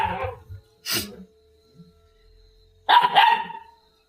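A dog barks at a small kukri snake hatchling at a house, giving a few loud, close barks in separate bursts with short quiet gaps between them.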